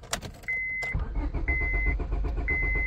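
Honda Civic starter cranks repeatedly without the engine catching, a rapid rhythmic churning under an intermittent dashboard beep, loud and close.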